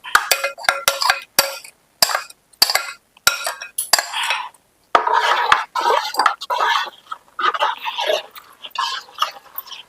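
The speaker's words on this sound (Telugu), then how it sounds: "ఇది ఇట్లా కలుపుతూ ఉండాలండి" Sorghum dough (jonna mudda) is stirred in a pot, producing a series of sharp, close clacks and scrapes of a utensil against the vessel, spaced irregularly with brief silences between, and no talking.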